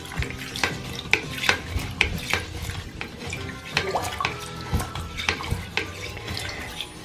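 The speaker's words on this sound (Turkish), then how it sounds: "Bunu da yapmak için şu şekilde fırçamı pompalıyorum." A toilet brush pumps up and down in a toilet bowl, making a rhythmic series of close, wet splashes and sloshing gulps of water, roughly one every half second.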